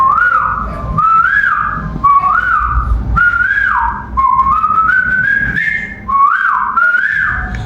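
A mimicry artist at a stage competition imitates bird calls with loud, close whistles: a series of rising and falling chirps and warbles repeating in short phrases, each separated by brief breaths.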